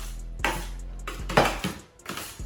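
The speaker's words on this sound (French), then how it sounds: "Et là, je mélange tout." A utensil clinks and scrapes against a bowl while vegetable salsa with a few drops of tabasco is mixed, producing several distinct metallic knocks in an irregular rhythm, close and fairly clear.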